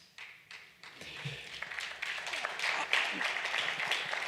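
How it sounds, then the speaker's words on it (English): An audience claps in a sustained burst of applause that builds from scattered claps into dense, steady clapping, fairly close, with no talk over it. "He gets the applause, not me."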